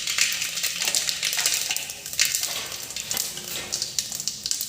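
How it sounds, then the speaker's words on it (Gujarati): Mustard seeds and cumin sizzle in hot oil in a village kitchen, a busy, crackling fry full of irregular pops and spits that holds up close for the whole stretch. "રાઈ જીરું નાખી દીધું છે"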